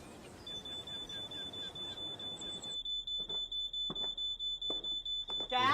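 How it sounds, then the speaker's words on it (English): A kitchen smoke alarm gives a steady run of sharp, evenly spaced high beeps, loud and close, first over a noisy rumbling background and then over quieter room sound. "It's just a smoke alarm in the kitchen."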